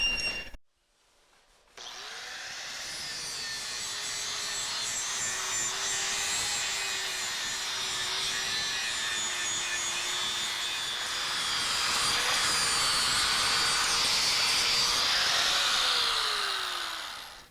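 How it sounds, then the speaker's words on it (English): An angle grinder steadily grinds rust off the front spring perch of a 1999–2004 Jeep Grand Cherokee WJ. After a brief silence, a loud, continuous, close abrasive whine runs uninterrupted to the end, with no talk. "We're gonna grind these down pretty much smooth, get as much of this rust and crap out of here as we can."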